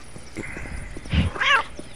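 A cat in Postal 2 lets out a short yowl as it is picked up, a brief rising meow near the end, preceded by faint thumps and rustling.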